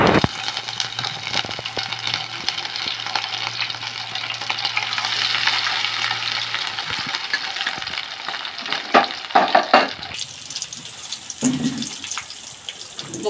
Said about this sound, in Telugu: ఫ్రై చేసేద్దామండి.